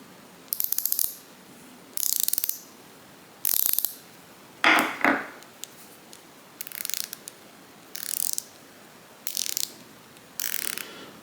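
Wera and Hazet ratchets clicking in short bursts, about eight separate runs of rapid pawl clicks spaced roughly a second apart, close and crisp with no talking.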